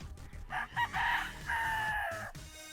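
A rooster crows close by in one drawn-out call, rising and then holding, with faint clucking and farmyard murmur underneath.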